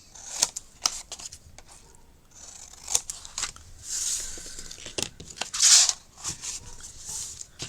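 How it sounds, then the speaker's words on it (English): Big scissors cutting, a series of crisp snipping and slicing strokes at irregular intervals, close and fairly loud, mixed with paper rustling and handling noise. "Let's get me big scissors."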